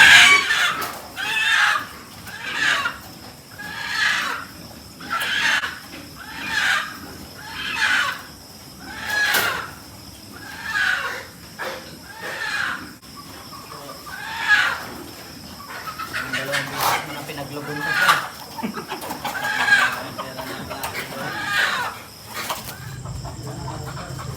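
Laying hens on a farm, with repeated rhythmic clucking calls recurring every second or so, fairly close and clear, continuing for the whole stretch with some background noise in the later part.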